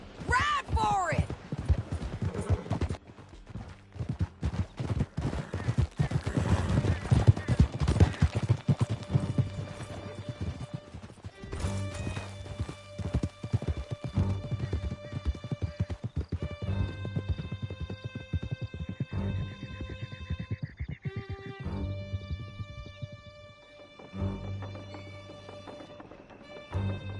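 Horses galloping in Red Dead Redemption 2, a rapid steady clip-clop of hooves during a ride out of a canyon, with occasional whinnies and a swelling orchestral score; characters talk over the riding.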